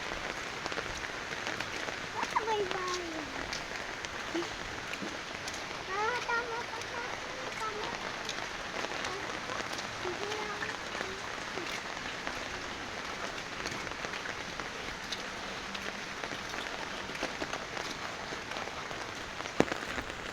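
Steady rain falls on surfaces as a continuous even patter for the whole stretch, with faint indistinct voices underneath.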